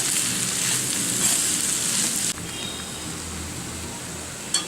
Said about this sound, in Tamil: சோ இந்த கிழங்கை நான் உள்ள சேர்த்துறேன். லைட்டா பரட்டிக்குவோம்.